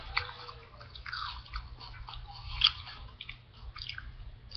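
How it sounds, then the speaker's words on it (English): Cinnamon Toast Crunch cereal is chewed at breakfast, giving close, moist crunching and squishy bites in an irregular rhythm, faint overall with no talking. "I'm eating breakfast right now, so."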